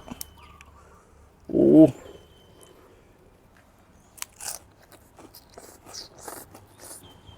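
Spicy seafood papaya salad being eaten up close, with one loud, brief crunching bite followed by quieter chewing and soft mouth sounds.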